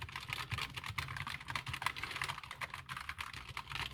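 Steady clicky keystrokes from a Redragon K621 low-profile tenkeyless mechanical keyboard being typed on at random, a dense, close run of light clacks with no talking.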